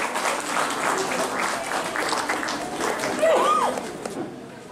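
Sustained applause from an audience at the 74th founding anniversary ceremony of Himalaya Kala Mandir, a dense, loud clapping that runs throughout and fades at the end, with a voice speaking over it.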